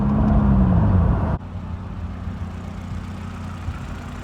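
A Toyota 2ZZ engine idles in a Matrix XRS car after a sharp drop from a higher, whining rev to a steady, close, even idle rumble.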